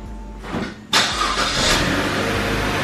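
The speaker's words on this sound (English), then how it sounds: "watch me start my car" A car engine starts with a brief cranking whir, then catches abruptly and settles into a loud, steady idle that runs on close by, with no talking.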